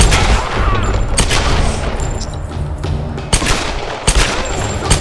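Rapid bursts of gunfire in Tomb Raider (2013) crack loudly in quick succession, with sharp repeated shots and a few heavier booms.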